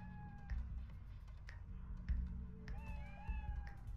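Several high, drawn-out cat meows from the video game Fallout Shelter repeat over a low droning background, faint and somewhat electronic in tone.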